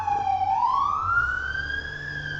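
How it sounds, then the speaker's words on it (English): Wailing ambulance siren sweeping up and down in pitch, steady and fairly loud throughout, heard alone with a low background rumble and no talk. "Ambulance."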